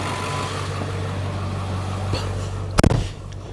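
A 2001 Ford Excursion with a 7.3-liter Powerstroke diesel idles steadily with a low, even rumble, then a short loud clatter of knocks near the end.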